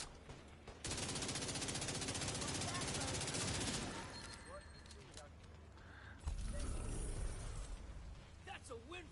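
An automatic ACS shotgun fires in The Division 2, a dense, rapid stream of blasts lasting about three seconds before fading into softer clatter, with voices talking over the game.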